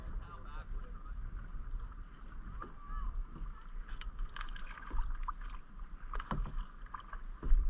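A kayak paddles through mangroves in Sarasota, Florida against a pushing wind, with soft splashes and knocks of the paddle over low rumbling wind noise on the microphone, and people talking nearby.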